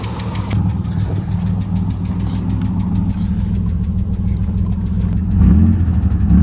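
A Nissan 300ZX engine idles close by, a steady mid-pitched rumble with faint knocking, briefly rising in a small rev near the end.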